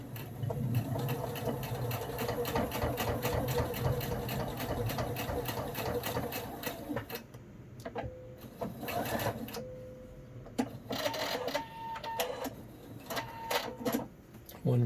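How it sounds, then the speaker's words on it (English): A sewing machine stitches a pleat on a hospital mask, running in a steady rapid whir for about seven seconds, then starting and stopping in short bursts with brief pauses while a voice talks over it. "One pleat sewn in place."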